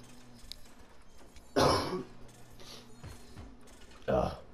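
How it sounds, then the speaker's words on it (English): Coughing from a person at a computer during a prison-building game session, with two sharp, loud cough bursts standing out near and alone over a quiet background hum. "once again, I am sorry for all the coughing"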